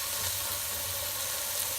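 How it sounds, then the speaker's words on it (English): Steak pieces searing in hot oil in a pan, giving a continuous, dense sizzle and crackle that holds steady and close throughout, with no voices. "Right, the oil has just reached the temperature now that we can put the steak in."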